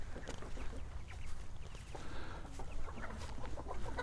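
A rooster and chickens clucking and squawking around a farmyard, busy overlapping calls at close range with steady background noise, no voices.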